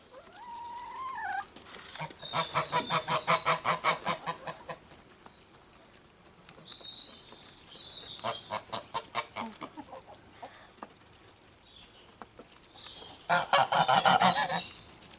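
Geese honking loudly among poultry at feeding time, bursts of rapid, harsh repeated honks in three loud bouts, close by, with quieter clucking and calls between them.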